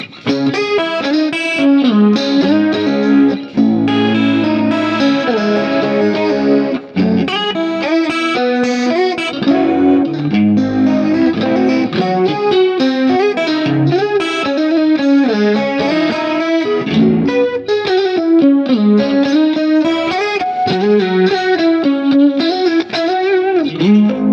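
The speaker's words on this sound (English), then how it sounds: "I used the Class A30 amp sim, and I added a chorus before the reverb." Clean electric guitar through a NUX Mighty Plug Pro with Class A30 amp simulation plays shimmering chords and melodic lines, thickened by a swirling chorus and washed in reverb, steady and loud throughout.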